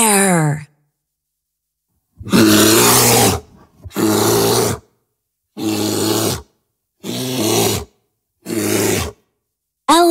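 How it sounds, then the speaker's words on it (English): A bear roars in a series of five loud, close bursts of about a second each, separated by short silences, after a brief voice at the start. "Bear."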